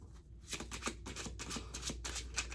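A deck of cards is riffled and shuffled up close, a quick run of crisp fluttering snaps, soft and steady with no talking.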